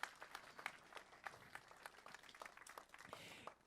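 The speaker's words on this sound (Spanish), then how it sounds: "Dale un aplauso de gratitud al Señor." A church congregation claps in a sustained round of applause, fairly distant and soft, with a few louder claps standing out.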